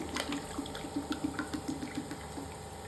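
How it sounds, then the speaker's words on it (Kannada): Water poured from a tumbler onto broken wheat in a cooking pot, giving a steady splashing, gurgling stream that runs close and moderately loud for a few seconds with no talk. "ಆ ಲೋಟ್ಲಿಂದ ಮೂರು ಲೋಟ ನೀರು ಹಾಕ್ತಾ ಇದ್ದೀನಿ ನಾನು"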